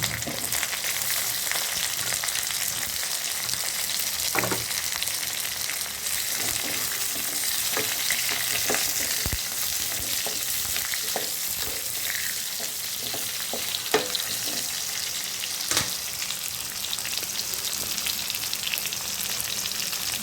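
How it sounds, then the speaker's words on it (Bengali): Pointed gourd (potol) fries in a pan with a constant close hiss of sizzling oil, marked by scattered clicks and scrapes of stirring throughout. "এখন আমি পটলটা দিব এর মধ্যে। পটলটা আগে দিব, পটলটা কষায় নিয়ে"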